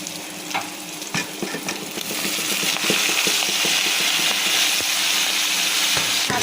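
Leafy greens tossed into a hot pan of oil seasoned with a little turmeric, giving a loud, steady sizzle and frying crackle that swells as they hit, with scattered stirring scrapes and no talking.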